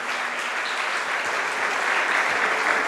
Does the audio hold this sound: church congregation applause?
yes